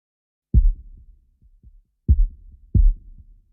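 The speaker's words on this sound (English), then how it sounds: "Again, really good sub kick." Arcade-style drum sub kick sample, deep and booming like a heartbeat, struck in a repeating pattern of single and paired hits with short decays and no voices.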